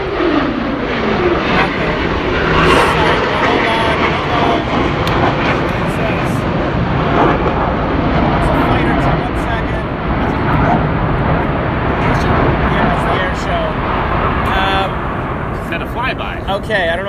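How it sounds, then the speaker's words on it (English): Fighter jets roaring overhead during an air show at the Canadian National Exhibition, a loud, sustained broadband rumble filling the whole stretch while people talk in a room beneath it. "you could hear that, but that was a fighter jet"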